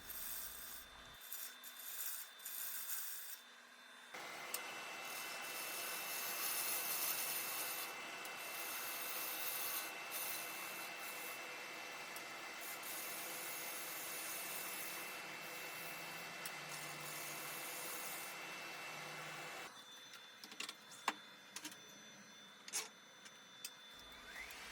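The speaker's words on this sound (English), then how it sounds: "I'm going to work on the very top surface of the bowl, and I'm getting a nice flat clean cut there" Turning tool cutting the top surface of a wooden bowl on a lathe, a steady close scraping hiss that starts abruptly, runs for about fifteen seconds and stops, with quiet shop clicks around it.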